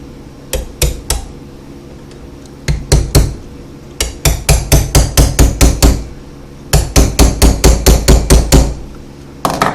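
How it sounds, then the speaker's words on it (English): A hammer strikes a socket set on the head of a bent bolt clamped in a vise, ringing metallic blows in quick bursts of several hits separated by short pauses, loud and close. "Now what I'm doing is I'm hitting the actual socket and the head of the bolt over here a little bit."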